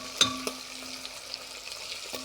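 Meat sizzling and frying in a pan with a steady low crackle, a couple of sharp clinks of a utensil against the pan near the start.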